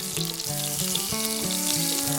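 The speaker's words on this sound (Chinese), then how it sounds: "抓紧放上腌制好的羊排。" Marinated lamb chops sear in a very hot frying pan, a steady loud sizzle and crackle filling the whole stretch without pause, no voices.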